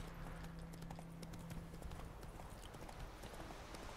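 In The Witcher 3, a horse trots along a road, its hooves clip-clopping in a quick, steady rhythm, fairly faint over a low continuous game background hum.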